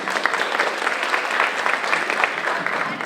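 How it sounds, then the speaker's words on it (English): Audience applause at a Boston Children's Chorus performance, a steady, dense clapping that holds at even loudness throughout, close and filling the room. "A big round of applause to our Boston Children's Chorus directors, Ms. Crystal and Mr. Robert"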